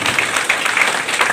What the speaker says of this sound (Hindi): प्लीज डॉक्टर अब्दुल कलाम के लिए तालियां प्लीज